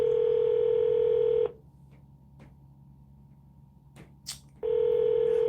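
A phone call to a client begins with a loud steady dial tone, which cuts out for a quiet stretch broken by a few faint taps and one brief dialing tone, then the steady tone returns.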